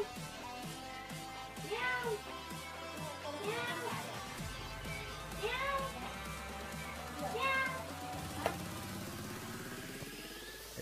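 A cat meows several times in a row, evenly spaced rising-falling calls over a low mechanical hum in the background.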